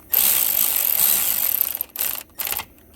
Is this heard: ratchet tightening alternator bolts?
yes